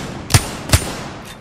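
Two sharp, loud gunshots about 0.4 seconds apart ring out in a solo Apex Legends match, each a brief broadband crack with a short tail, with nothing else audible between them.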